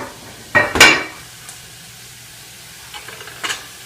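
Sauerbraten sauce reducing in a pot is stirred with a utensil, giving two sharp scraping clinks against the pot near the start, then a faint simmering hiss and a couple of softer stirring scrapes toward the end.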